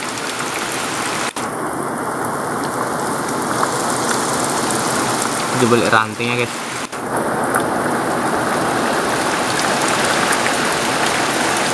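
Steady rain falls outdoors in hilly forest, a dense, loud hiss of drops on leaves and surfaces that continues throughout, with someone briefly speaking over it partway through.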